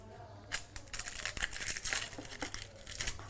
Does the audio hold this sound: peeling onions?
yes